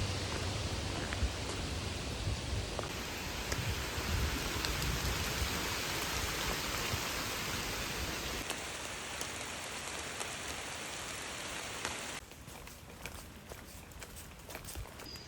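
Steady rain falling during a storm along the Appalachian Trail in Virginia, a dense even patter of drops on surfaces, fairly loud, easing slightly near the end.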